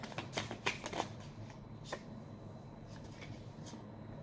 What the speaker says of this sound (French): je prends une dernière carte, voir si j'ai un message supplémentaire